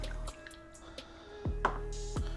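McKee's 37 F-914 liquid cleaner, about 2.5 ounces, poured and mixed into a bucket holding roughly 5 gallons of water: a few wet drips and squishy splashes, close and fairly quiet, with no voices.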